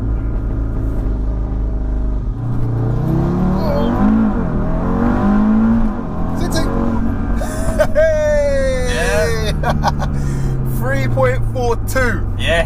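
An Audi RS3 launches hard from a standstill, its engine revving loudly with rising, sweeping pitch as it pulls away. Excited voices talk over it throughout.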